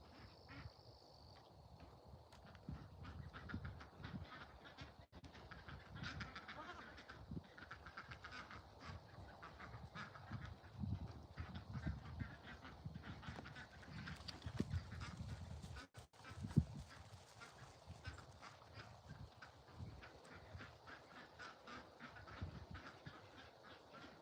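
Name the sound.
ducks quacking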